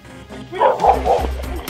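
A boxer dog barks up close in a few short, gruff woofs mixed with a whine, loud and abrupt against a quiet background.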